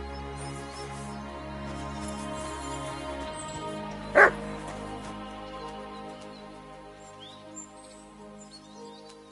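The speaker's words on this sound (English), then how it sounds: "Barking." A dog in the video game Kingdom Come: Deliverance II gives a single short bark, heard once in the middle over a quiet ambient hum with faint bird calls.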